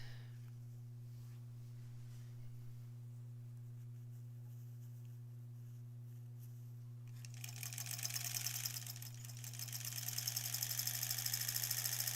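Sewing machine stitching quilt scraps for improv-pieced granny squares; a low steady hum gives way to a fast, continuous run of stitching that carries on to the end, close and fairly loud, with no talking.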